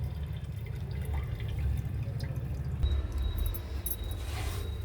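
Urad dal lentils are washed by hand in water, giving a close, continuous swishing and dripping splash with small sloshes, alone and without talk.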